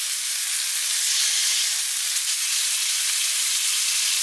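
Venison backstrap sears in a hot pan, giving a loud, steady, close sizzle with a bright hiss that holds evenly throughout, with no other sounds.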